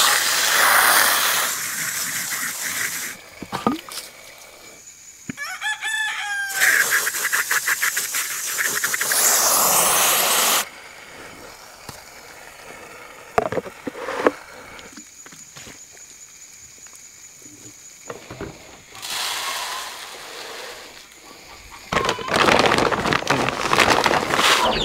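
Water pouring out during farm chores, a steady hiss in several bursts of a few seconds each, heard close with boot footsteps and handling sounds between the pours.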